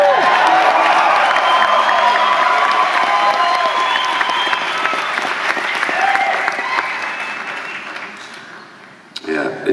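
A large concert crowd at a show applauds steadily with scattered cheers and whoops, the clapping fading toward the end.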